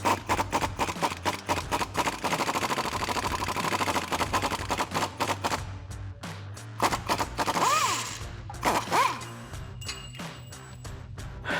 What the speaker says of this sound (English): Grab an 18mm wrench to hold the nut side and a 15mm socket to get the bolt head.